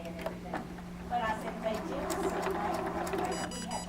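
A sewing machine stitching along a line for paper piecing, a close steady mechanical whir with faint rhythmic clatter that keeps going throughout, plus a brief beeping near the end.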